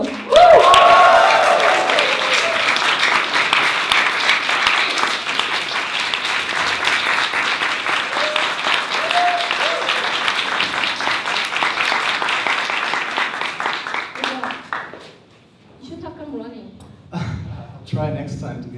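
A large audience applauds loudly and steadily for about fifteen seconds, with cheers and whoops over the clapping, before it thins out and a few scattered voices are left.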